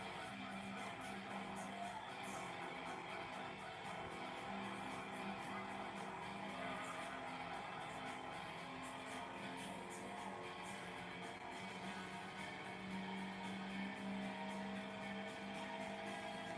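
A Chrysler Phaeton laps a circuit in the Gran Turismo 2 racing game, its engine droning steadily and continuously at close range with a constant mechanical hum and no breaks.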